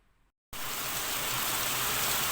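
After a moment of near silence, a loud, dense hiss of heavy rain sets in abruptly and pours steadily without a break.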